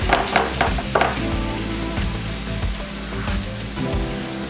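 Meat browns in a pot for a Mexican stew, a dense, steady sizzle with a few sharper pops and clinks near the start, close and fairly loud with no talking.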